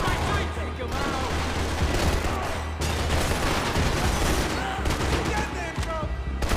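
Sustained gunfire in the video game Max Payne 3, with bursts of shots and fusillades running continuously and loudly, while voices shout over the combat.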